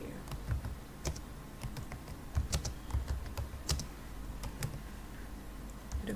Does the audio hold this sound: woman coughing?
no